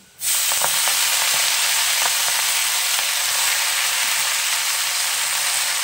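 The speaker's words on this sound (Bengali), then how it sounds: "দিয়ে দিচ্ছি রসুন ফোড়ন, একদম রসুন কুচি দিয়েছি এখানে। দিয়ে এই মেথি শাকটা আমি এর মধ্যে দিয়ে দিচ্ছি।" Fenugreek leaves hit a pan of chopped garlic tempering for lahsooni methi and set off a loud, steady sizzle with a steamy hiss that runs unbroken after a sudden start, with faint stirring clicks scattered through it.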